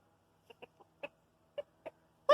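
Short soft clucks from a rooster on a backyard chicken flock, a handful of separate calls spaced out, faint and close, ending on one louder squawk, with no talking.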